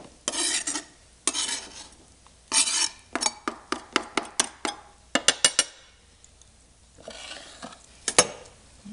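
Sausage and herbs are stirred into a pot of Southern Mississippi red beans and rice: a spoon scrapes and knocks rhythmically against the pot, close and clear, with brief pauses.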